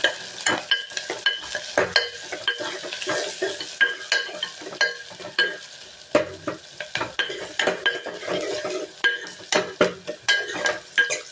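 Sliced onions, two medium ones, sauté with curry leaves in a pan, stirred repeatedly with a spoon: steady close sizzling frying with frequent clinks and scrapes of utensil against the pan throughout.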